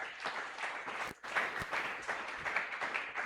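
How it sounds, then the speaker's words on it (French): A church congregation at a Pentecost praise and thanksgiving service bursts into loud, sustained applause with cheering, the dense clapping continuing nearly unbroken apart from one brief dip. "Est-ce qu'on peut acclamer très fort le Seigneur?"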